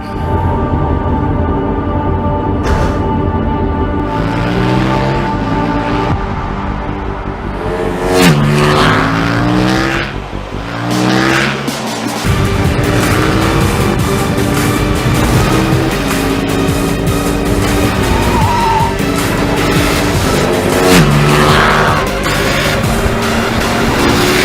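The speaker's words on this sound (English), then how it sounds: "We want to see it in action, the 1290 Super Duke R" A KTM 1290 Super Duke R motorcycle revs hard and accelerates, its engine note climbing and dropping through repeated sweeps, loud and close, with passes and throttle blips running throughout and no speech.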